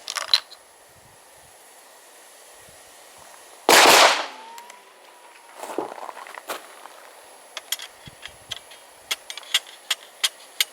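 A squib load loaded with 0.7 grains of Trail Boss powder is fired, giving one sharp, loud report that leaves a bullet stuck in the barrel while the action still cycles. Softer clicks and handling noises follow.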